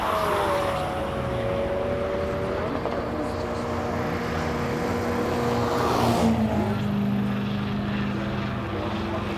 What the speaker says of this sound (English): This is Chris Leeson in his Ford Focus RS. Cute looking little thing, but don't be fooled